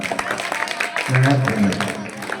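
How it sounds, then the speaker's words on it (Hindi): Students at a coaching and computer centre clap over weekly test results, a mix of close clapping with voices talking and calling out over it, growing fuller in the second half. "जोरदार तालियां।"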